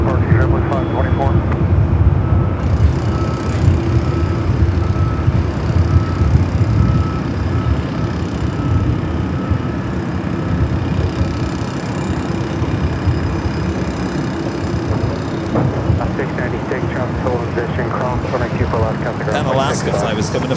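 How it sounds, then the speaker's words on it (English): A Boeing 787 Dreamliner jet airliner takes off at Los Angeles airport, its engines producing a loud, continuous roar that holds steady throughout, with a brief rise in hiss toward the end. "The Dreamliner heading to Paris. Next up for takeoff."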